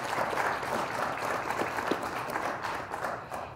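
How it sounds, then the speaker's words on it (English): Steady applause from an audience at a municipal election candidate forum, a dense continuous patter of many hands clapping throughout, fairly loud and even with no talk over it. "So we actually should be applauding Michael Ann, who's sitting right there"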